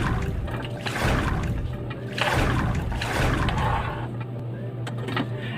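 Carrots and celery slide into a pot of boiling water for carrot soup, giving a close, steady bubbling wash that swells in a few surges before settling, with no voices.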